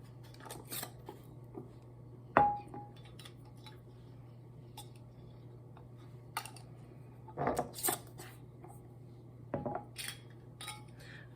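Light metallic clinks and taps as canning lids are set onto glass jars while pressure canning shellie beans, a few sharp isolated clicks spaced apart over a steady low hum in a quiet kitchen.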